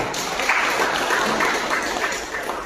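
A church congregation applauding together, a steady, dense roar of many hands clapping at moderate loudness throughout, with no clear voices.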